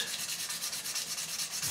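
Frets on a 1972 Gibson Les Paul Deluxe being sanded with sandpaper during a refret, a quick, steady back-and-forth rubbing rasp that repeats rapidly, close and continuous, with no voices.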